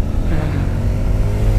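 A motorcycle engine revs up close and loud, a gritty, throaty roar with a deep low rumble that holds steady and surges slightly throughout.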